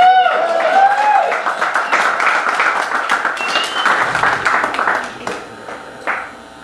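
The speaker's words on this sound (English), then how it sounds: "Y'all clap so I can get it together." An audience at a small live music show in a Gainesville venue claps, a scattered burst of applause that is loud at first and then thins into a few lingering claps, with some faint voices underneath.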